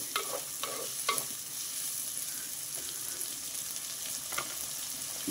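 Onion and green chillies soften in a pan for a taro root stew, giving a steady soft sizzle with a few light stirring scrapes, close and fairly quiet, no talk.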